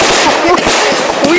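Fireworks at an outdoor firework display in Potton in 2012 pop and crackle in rapid, repeated bursts with rising whistles, loud and close, while people talk nearby.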